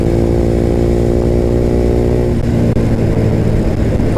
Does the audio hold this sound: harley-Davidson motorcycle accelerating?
yes